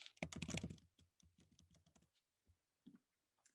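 Typing on a computer keyboard, a quick burst of close key clicks that thins into scattered taps and then stops in a quiet room.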